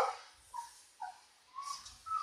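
A few short barks from a mother dog guarding her puppies come at roughly half-second intervals, faint and somewhat distant, with no one talking.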